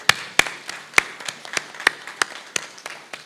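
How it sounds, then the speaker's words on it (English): Audience clapping for a panel at a community forum, a thin scatter of sharp individual claps in an uneven rhythm, fairly close and alone without talk. "let's give our panel one more round of applause"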